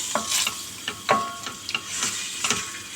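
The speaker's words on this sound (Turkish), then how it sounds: "Tamamen suyunu çekip güzelce kavrulana kadar" Close, steady sizzle of diced beef sautéing in oil in a pot for Uzbek pilaf, punctuated by repeated scraping strokes of a utensil stirring the meat at a rough, uneven rhythm.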